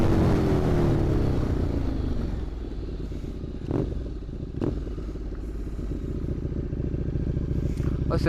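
A KTM 1290 Super Duke R motorcycle accelerates toward top speed, its engine roaring loudly with a rising then steady drone, heavy wind rush and a couple of gear-change dips, heard from onboard.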